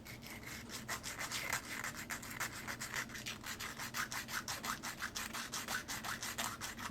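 A wooden model ship is hand-sanded in quick, steady back-and-forth strokes, a close, continuous rhythmic rubbing with no speech.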